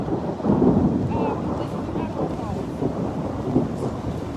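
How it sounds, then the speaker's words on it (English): Steady rain with rumbling thunder during stormy weather in Idaho Falls, a loud continuous wash of rainfall and low rolling rumble, with wind buffeting the microphone. "It's still raining, not as hard as before."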